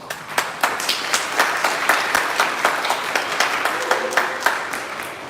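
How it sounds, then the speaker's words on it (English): A crowd applauds steadily at a startup accelerator demo day for Korean market expansion, with dense clapping and a few sharper individual claps standing out across the full stretch. "give all of these participating companies a round of applause"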